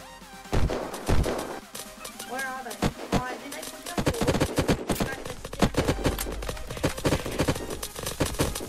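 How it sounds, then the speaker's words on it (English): Enemies fire at the player in Unturned during a PvP base fight, with dense rapid bursts of loud gunfire and machine-gun volleys mixed with impacts and crashes, and voices shouting underneath. "there is more guys outside shooting us"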